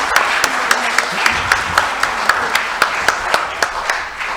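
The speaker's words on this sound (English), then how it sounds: "join me in another round of applause for Group 2's presentation" Applause at a climate action panel following a group's research presentation, a modest crowd with a few distinct loud claps standing out in a regular rhythm over the steady patter.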